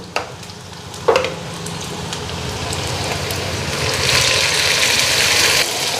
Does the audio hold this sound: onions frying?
yes